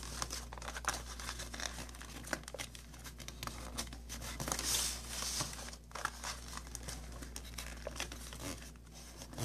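Sheets of origami paper being folded up at four corners for an octagonal tissue case, with soft crinkling, rustling and occasional crisp creases close by and no talking.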